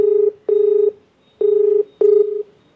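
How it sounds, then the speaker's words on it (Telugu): Four steady dialing tones at one pitch, each lasting about half a second with short gaps, sound clearly as a phone number is keyed in to place a call. No voices are heard. "సో అందుకని ఒకసారి మీతో మాట్లాడిద్దామని కాల్ చేస్తానండి"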